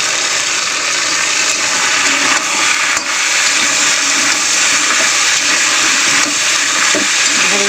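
Okra, potatoes and onions fry in a pan with a loud, constant hiss of sizzling oil that holds steady throughout, heard up close with no talking.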